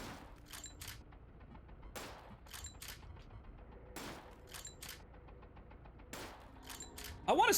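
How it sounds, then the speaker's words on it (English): Gunfire in the video game Psycho Patrol R, sharp isolated shots and short bursts spaced every couple of seconds over a quiet mechanical background, with a voice faintly underneath. "Sir, you're shooting at a police officer."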